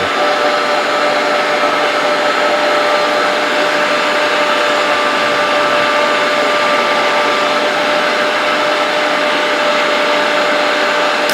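A mixer grinder runs loud and steady at close range as it beats eggs, giving a continuous high motor whine that holds unbroken to the end.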